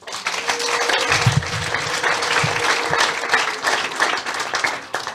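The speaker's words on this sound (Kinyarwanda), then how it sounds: "Mukomere Imana amashyi." An audience at a church sermon claps and applauds steadily, a dense continuous wash of hand claps lasting the whole stretch with a few fainter voices mixed in.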